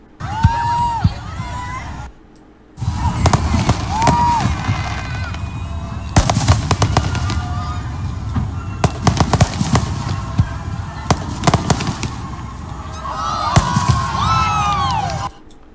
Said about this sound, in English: It's like me blowing off firecrackers in the background.